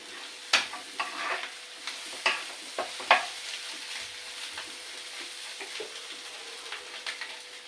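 Cooked rice is tipped into a hot pan and fried, with a soft steady sizzle under a run of scraping, clinking stirs that are louder early on and lighter later, with no talking.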